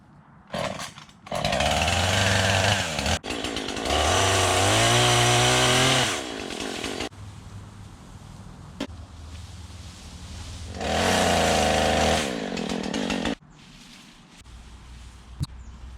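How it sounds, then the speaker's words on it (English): A chainsaw roars close by, revving hard in bursts as it bites through branches, then dropping to a rough idle between cuts. "I'm gonna have to get the chainsaw out and clean up this fence line"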